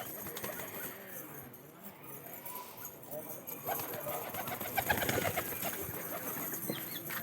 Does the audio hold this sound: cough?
no